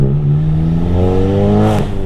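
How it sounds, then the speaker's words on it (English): A BMW 235i accelerates past nearby, its loud engine note rising steadily in pitch over about two seconds before a brief whoosh as it goes by. "Oh my god, is that a 235i?"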